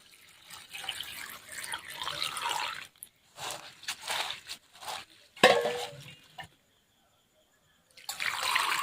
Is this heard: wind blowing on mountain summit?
no